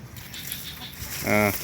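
A goat at a backyard pen bleats once, in a brief, nasal, wavering call that rises above steady outdoor background noise.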